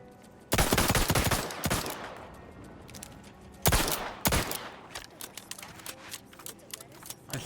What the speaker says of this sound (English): So when I hip fire it, I can shoot it real quick